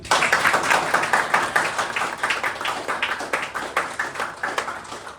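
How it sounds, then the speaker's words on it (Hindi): A theatre audience at a stage play presentation breaks into loud, dense applause: many hands clapping together in a steady, close, continuous burst for several seconds, with no talking over it. "जोरदार ताली"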